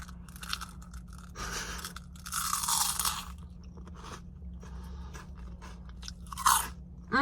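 A crunchy snack from a packet is chewed close to the mic, with loud irregular bursts of crunching and biting separated by quieter pauses and no talking.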